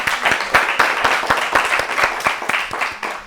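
Studio audience applauding on a children's television quiz show, a steady burst of many hands clapping with sharp irregular claps throughout, fairly loud and close.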